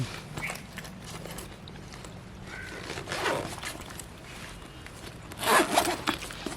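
Zippers on a new school bag are pulled open and shut several times, giving close, rasping zips of varying length over faint room noise.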